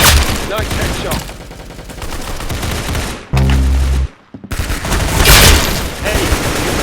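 Rapid video game gunfire rattles in dense bursts, with a brief dropout before more shots and impacts resume, loud and close throughout.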